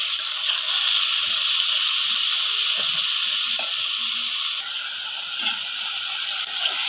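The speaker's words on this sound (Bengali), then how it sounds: "এখন এটাকে সুন্দরভাবে আমাকে নাড়াচাড়া দিয়ে একদম কষাতে হবে ভালোভাবে মশলার সাথে মাটির চুলায়" Bitter gourd stir-frying with spices in a pan over a clay stove makes a continuous close sizzle and hiss, broken by soft scrapes and knocks of stirring throughout, with no voices.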